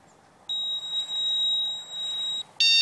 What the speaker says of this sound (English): when you lift the rod, alarm goes off